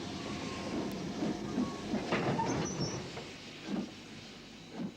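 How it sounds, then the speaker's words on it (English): Two locomotives double-heading a train past the camera near Dingwall on the line to Inverness, with rumbling wheels and rhythmic clickety-clack beats rising and fading as the wagons roll by, faint squeals above. "as the locomotives pass the camera"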